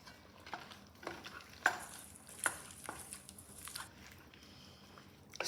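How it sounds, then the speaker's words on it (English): Tomato paste being stirred into a pot of vegetable beef soup, quiet scraping and clinking of a utensil against the pot in a few separate strokes over a soft simmering background. "And then I'm going to mix that in."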